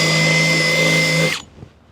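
A power drill bores through a rivet while work is being done on a 1983 K100. The loud, steady whine runs for about a second and a quarter, then cuts off sharply into near silence. No one speaks.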